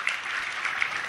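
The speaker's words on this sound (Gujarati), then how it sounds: "તાળીઓ અવિરત ચાલુ રહે" An audience at a children's values camp applauds continuously as names are read out, giving a steady, moderately faint patter of many hands clapping with no pause.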